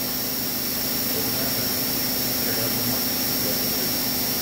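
Spindle of an Akira-Seiki Performa V4C CNC vertical machining center, rated to 10,000 RPM, spinning at high speed around 6,000 RPM: a steady, loud, continuous whine and airy roar with a fixed tonal hum, no talking.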